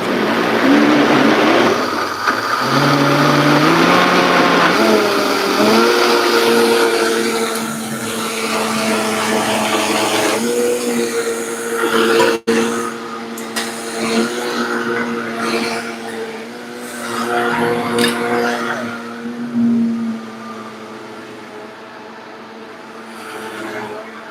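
A blender blends carrot chunks with water, giving a loud, steady motor whir that shifts pitch several times as the load changes, running continuously for about twenty-four seconds with no talking.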